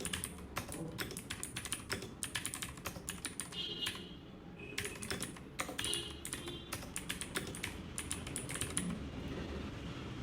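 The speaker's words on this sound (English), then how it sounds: "You just take a text, type whatever is written there" Rapid, irregular clicking of keys on a computer keyboard as text is typed, steady close-up clatter with brief pauses, no voices.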